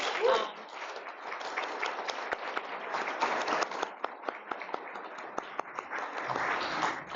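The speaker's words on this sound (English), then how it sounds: "And if we could give one more round of applause to Carter." Audience applause at a NAACP Freedom Fund banquet, a sustained round of clapping from a crowd filling the room, steady and moderately loud with sharper individual claps throughout.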